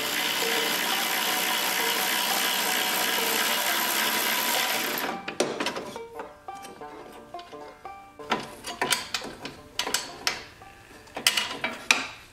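Socket wrench turning gas tank bolts on a small engine with a recoil starter, irregular close metallic clicks and clanks after a steady broadband rush fades out, no voices.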